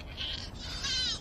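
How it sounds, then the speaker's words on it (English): A goat in a barn gives two drawn-out, wavering bleats close by, the second stronger than the first, over a low room rumble. "That was one of my goats."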